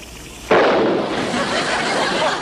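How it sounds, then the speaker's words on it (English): Explosion on an island naval base, a sudden loud blast followed by a sustained roaring rumble that stays dense and powerful to the end. "what was that explosion?"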